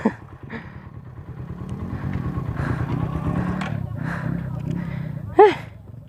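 Motorcycle engine rumbling and clattering over an unexpected rough dirt trail, a steady mid-level drone with bumps and jolts, people talking over the ride throughout.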